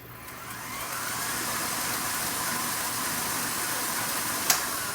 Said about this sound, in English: It makes it easier for that mixer to really do its work.